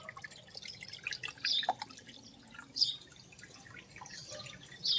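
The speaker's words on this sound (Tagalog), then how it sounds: "normal din in the process, may lumalabas na tubig ulit sa drain" Water drains out of a water softener hose during a manual backwash, a faint, quiet trickle broken by scattered drips and small splashes.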